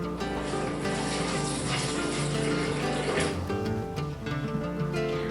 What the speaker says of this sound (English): I like to fill the water up to where my cashews are just so it covers it